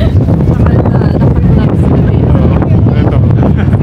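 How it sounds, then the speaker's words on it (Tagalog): Strong wind at Abraham Lake buffets the microphone with a constant loud roar and rumble, steady throughout with no pauses. "Lakas na hangin, kaya gano'n na kami."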